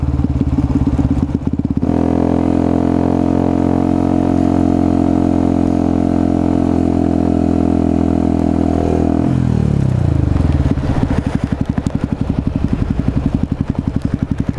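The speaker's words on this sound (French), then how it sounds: "C'est belle ta moto." An Aprilia RS4 motorcycle engine idles loudly and steadily up close, then drops in pitch and settles into a lower, throbbing idle.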